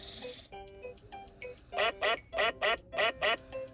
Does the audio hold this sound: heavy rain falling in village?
no